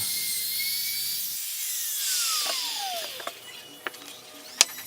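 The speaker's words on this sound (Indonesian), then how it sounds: "Masih menggunakan mesin trimmer, saya haluskan pinggir lubang agar nyaman digenggam." A high-pitched trim router whine runs steadily, its pitch sweeping down as a round-over bit bites into the edge of a hole in wood, followed by a few sharp clicks and taps.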